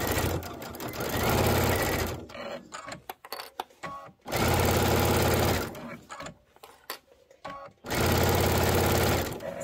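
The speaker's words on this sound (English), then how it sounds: "If it's way off, I'm going to sew in a little bit." A sewing machine stitches velveteen pillow fabric in three loud, steady, rapid runs of about two seconds each, close to the mic. Brief pauses between the runs carry clicks and handling noises.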